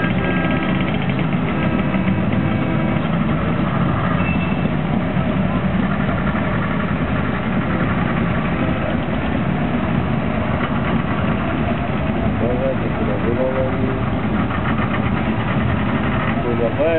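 Old, worn-out tractors, including a Škoda, idling at a tractor parade, a continuous low rumbling engine drone with faint knocking, and people chatting nearby throughout.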